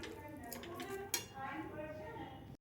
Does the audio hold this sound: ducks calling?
no